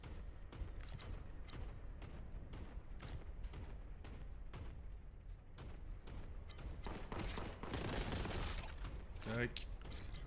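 In the Warhammer 40,000: Boltgun game, a machine gun cultist fires bursts. Rapid, dense gunfire keeps crackling through the scene at a fairly low, steady level.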